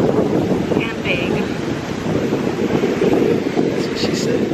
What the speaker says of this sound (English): The waves are way too hard and big.